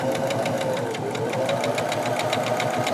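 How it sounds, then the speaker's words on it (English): A sewing machine stitches quilt fabric across pressed-open seams, a fast, even mechanical chatter of needle strokes running continuously and up close. "make sure when you sew over the seams, the seam allowance that's pressed open"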